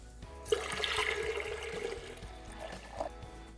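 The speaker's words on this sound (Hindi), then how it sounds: "अब हम इसमें 900 ml डालेंगे इसका वॉल्यूम मेकअप करने के लिए" Steady stream of water pouring into a vessel of MS plant tissue culture medium to make the volume up to 900 ml, a continuous close splashing and gurgling with a small bubbling surge near the end.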